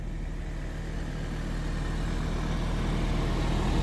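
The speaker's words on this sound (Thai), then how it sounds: "โอ้มีรถไถด้วยฮะสุดยอดเลย" A Massey Ferguson 4707 tractor, about 75 horsepower, runs steadily at a sugarcane field, its low engine drone and rumble continuous and fairly loud, with no talking over it.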